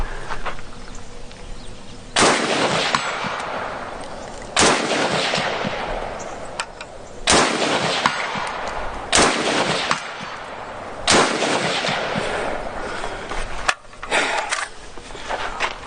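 Chinese Type 97 FTU rifle firing five sharp, loud gunshots at roughly two-second intervals, each followed by a short echoing decay outdoors.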